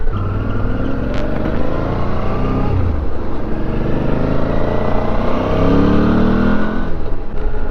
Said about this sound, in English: The V-twin on this thing just sounds so good.